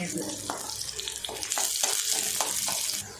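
Half a cup of chopped small onions (shallots) hit hot oil, bursting into a steady, loud crackling sizzle with bright spitting bursts throughout, close by and with no talk over it.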